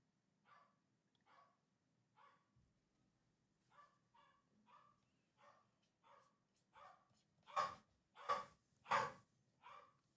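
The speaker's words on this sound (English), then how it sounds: "Yeah, Cooper be barking." A dog named Cooper barks in a string of about a dozen barks, faint and distant at first, then much louder and closer in the last three barks, with a low hum underneath.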